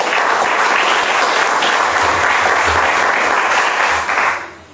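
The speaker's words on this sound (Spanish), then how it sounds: "Maestro, un aplauso." Audience at a book presentation breaking into dense, sustained applause, loud and even, fading out in the last half second.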